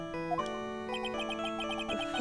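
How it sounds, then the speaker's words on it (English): A phone's melodic ringtone rings out during a Phoenix Wright: Ace Attorney game session, a bright chiming tune of sustained tones playing steadily and fairly loud, with no voices over it. "Oops. Sorry, that's my phone."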